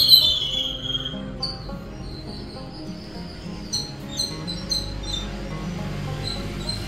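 Sparrows chirp at midday around a home where rice and water are set out for them, a scatter of faint, high, brief chirps over a low background hum, with no talk.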